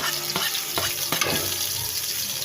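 Onion and garlic sauté in a hot pan with a steady, close sizzle, broken by a few sharp stirring taps early on before settling into an even hiss.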